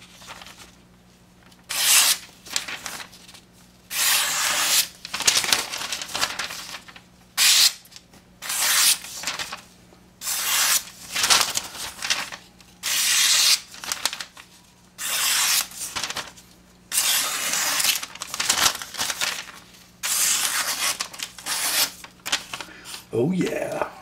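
Freshly sharpened blade of a Case/Bose Lanny's Clip pocketknife slicing through material in repeated strokes, each a loud close rasping swish of about a second separated by short pauses, over a dozen cuts in a row.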